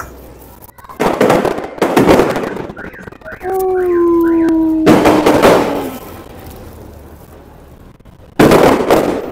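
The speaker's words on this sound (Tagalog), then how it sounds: "Nakapag-fireworks pa tayo dito." Fireworks burst loudly in Spain, several sharp, close explosions with crackling tails, and between them a dog howls and whimpers in rising tones, with voices faint in the background.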